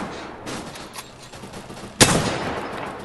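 Gunfire in the shooting video game Rebels Clash: a steady run of rapid shots, then one loud, sharp blast near the end that carries into heavier firing.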